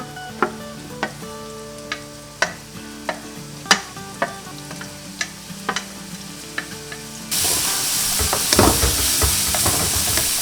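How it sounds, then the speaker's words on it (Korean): Garlic, onion and green onion stir-frying in oil in a pan, first as repeated sharp spatula taps and scrapes over a quiet sizzle, then a sudden loud, continuous hiss of frying. "마늘, 양파, 파를 다 한꺼번에 볶을 겁니다."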